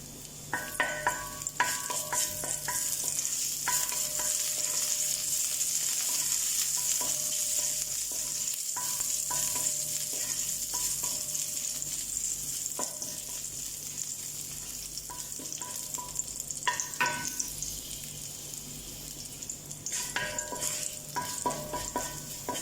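Garlic fries in about a tablespoon of oil in a kadhai, giving a steady bright sizzle that holds throughout, with occasional stirring scrapes and light clinks of a spatula.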